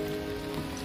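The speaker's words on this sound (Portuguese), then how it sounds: "começou a chover aqui, a chuva interrompeu o nosso rolê aqui" Rain falls steadily at Europa Park, a German theme park, near the children's area, a soft continuous patter on surfaces with no voices over it.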